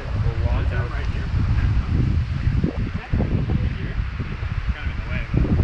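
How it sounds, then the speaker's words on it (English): Strong wind on a lake during a canoe trip in headwind and rain buffets the microphone with loud, gusty rumbling. A person talks over it throughout. "It's very windy out."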